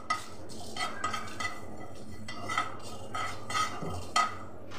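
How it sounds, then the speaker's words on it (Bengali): Dried chilies with whole cumin and fennel seeds dry-roast in a pan on low flame, stirred with a spoon in repeated rhythmic scrapes and light metallic clinks over a soft background crackle, close and fairly quiet. "এবার খুব ভালো করে এটাকে ভেজে নিতে হবে।"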